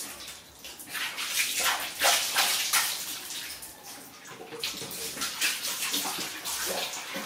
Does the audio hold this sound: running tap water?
yes